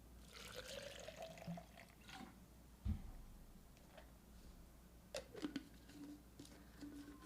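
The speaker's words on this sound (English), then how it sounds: "add some water" Water is poured into a shaker bottle while instant coffee is made, a soft, quiet splash and trickle under steady room noise, with a couple of small plastic knocks.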